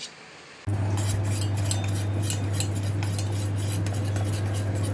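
A knife cutting khaman into pieces on a plate, with close, continuous metallic scraping and tapping against the dish and a steady low hum underneath, no voices.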